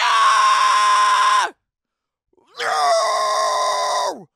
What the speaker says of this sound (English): here's what I believe is a good level scream